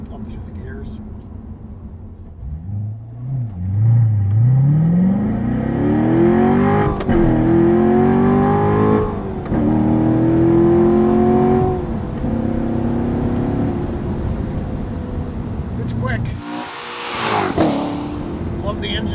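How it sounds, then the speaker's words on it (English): A 2014 Chevrolet Corvette Stingray Z51 with its 460-horsepower V8 accelerates hard downhill through the gears, the engine note rising in pitch and dropping at each shift, loud and close with a brief voice over it. "Love the engine sound."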